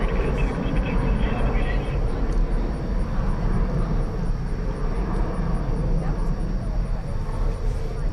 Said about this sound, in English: It's an Airbus A321.